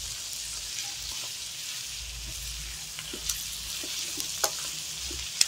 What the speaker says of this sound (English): I just want to give them a small saute.